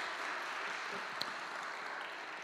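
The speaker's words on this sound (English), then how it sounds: "Round of applause." Audience applause following a staffing update at a church gathering, a steady dense wash of clapping throughout at moderate level with no voices.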